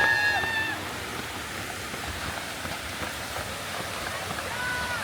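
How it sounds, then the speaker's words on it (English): A waterfall along a trail during an ultramarathon run gives a steady, broadband rush of falling water that stays constant throughout at moderate loudness. "One more waterfall."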